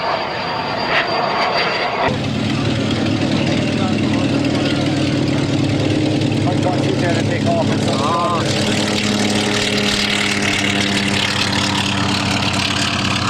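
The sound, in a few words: aircraft engines at low speed during air show flypast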